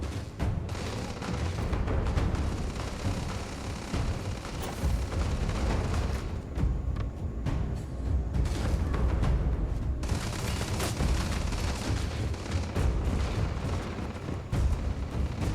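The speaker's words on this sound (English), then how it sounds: "I hear gunfire." Dense, continuous bursts of gunfire and booming blasts from the game Starfield, loud and sustained throughout with no talking.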